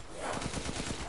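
Rapid burst of gunfire from a weapon in the Resident Evil Village video game, a quick string of close, loud shots packed into about a second.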